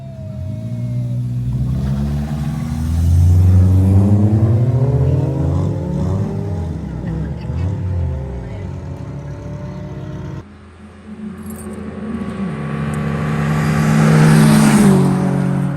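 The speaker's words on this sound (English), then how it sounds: "We're outside and we're covering a race at the racetrack." Race cars accelerating at a racetrack, the engines revving and rising in pitch as they pull away, loud and close, then a second surge of acceleration after a brief dip, with no talking.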